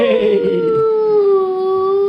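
A voice imitates a wolf, sustaining a long, slightly falling howl for a couple of seconds, close and fairly loud.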